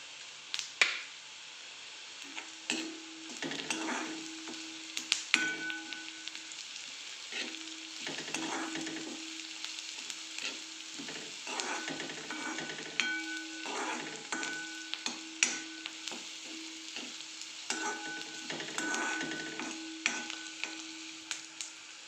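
Onions and chilli-garlic paste fry in a pan for kanda bharad bhaji, with a steady sizzle and repeated rhythmic spoon scrapes throughout, close and moderately loud, without talk.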